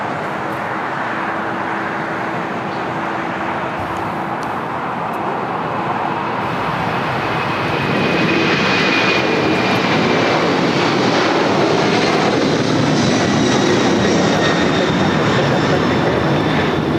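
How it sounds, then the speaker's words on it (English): An 18-year-old Boeing 747-400 freighter's jet engines roar at LAX, a broad loud rumble and whine that swells and stays strong through the second half, with a high engine tone over steady airport noise. "It's an 18-year-old 747-400 freighter delivered in April of"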